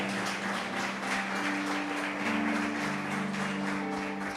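A church congregation claps together in praise, a dense, rhythmic wash of applause filling the room, with sustained organ or keyboard tones ringing underneath.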